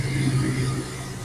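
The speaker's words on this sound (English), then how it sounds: "she's idling a lot lower." A 1978 Oldsmobile Toronado barn find idles steadily, coming off the choke and needing timing, with a low, even engine hum and slight rumble heard close up and without any voices.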